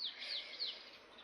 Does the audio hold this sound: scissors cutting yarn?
no